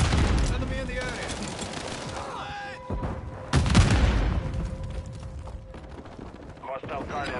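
Rapid gunfire rattles through a Call of Duty: Modern Warfare 3 firefight, dense bursts and sharp cracks layered with game radio voices and shouted commands.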